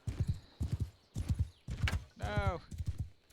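Horse hooves galloping in Mount and Blade 2 Bannerlord, a steady, loud rhythmic clip-clop of repeated hoof beats with a brief neigh partway through, close and prominent.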